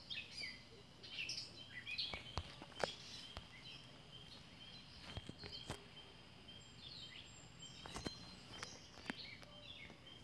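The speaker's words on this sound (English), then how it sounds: "You can probably hear some birds around here in the nature." Birds chirp outdoors in a quiet natural setting, with faint scattered tweets and calls over soft background ambience and a few sharp knocks.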